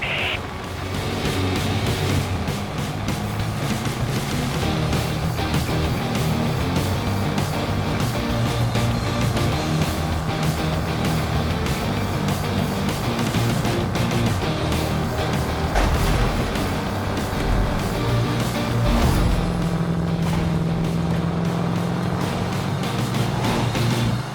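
Engine drone of a car in a video game runs steadily and loudly throughout, with rumbling low tones and a brief surge of another vehicle passing close by near the end.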